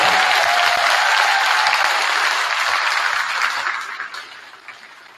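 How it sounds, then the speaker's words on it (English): Dense applause from a school concert audience cheering sixth-grade band students' duets, a steady loud wash of clapping that tapers off toward the end. "So can we get one more round of applause for every single duet this day?"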